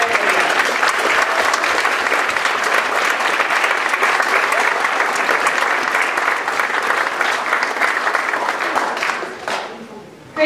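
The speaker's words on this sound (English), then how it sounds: "Let's have a round of applause for these." Dense, loud applause from an audience at a school short film premiere, a steady wash of many hands clapping for about ten seconds before tapering off at the end.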